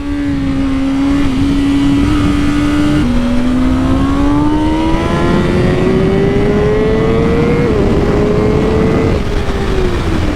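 A BMW M 1000 RR superbike engine at speed, a loud, steady high-pitched whine that climbs through the gears with brief dips at shifts, heavy wind rush underneath, close up with no talking.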